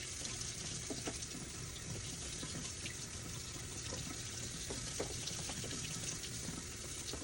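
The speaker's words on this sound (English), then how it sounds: "Rinse my board off." Running tap water pours steadily into a kitchen sink while a cutting board is rinsed off, a continuous, fairly loud rushing hiss with faint knocks and splashes, with no talking.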